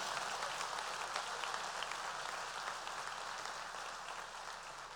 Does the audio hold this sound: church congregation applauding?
yes